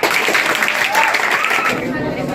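Loud, dense applause from an audience at a GK competition prize event, steady clapping filling the whole stretch without a break.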